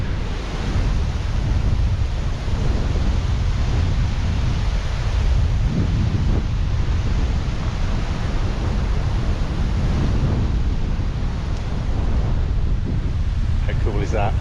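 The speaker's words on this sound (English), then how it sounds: "This is the way the wind is blowing." Steady wind roars across an open road in Morocco during a bike-packing trip between Agadir and Tangier, a constant broadband rush buffeting the microphone for the full stretch with no pauses or gusts standing out.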